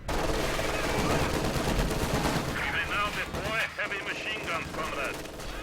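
Gunfire and sniper shots crackle through a real-time strategy battle, dense and continuous under steady commentary, with sharper bursts later on.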